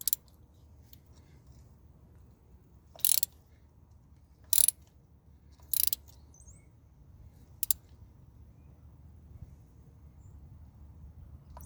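A ratchet tightens a spark plug on a Toyota/Scion engine, giving a few short, sharp clicking bursts spaced a second or more apart over a quiet background.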